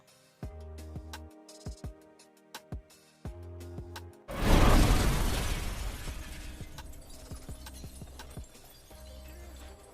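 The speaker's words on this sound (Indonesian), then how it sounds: "Dan mobil tersebut hancur berkeping-keping" A car is smashed to pieces in the film Race to Witch Mountain. Sparse tonal knocks give way to a sudden loud crash partway through, and shattering debris then rattles and fades over several seconds.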